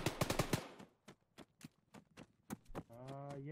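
Enemy gunfire in a military shooter video game, heard as a quick burst of sharp shots followed by scattered single cracks of varying loudness, with a brief tonal sound near the end.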